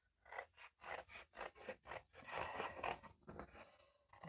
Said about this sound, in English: I'm going to use my scissors to cut this out.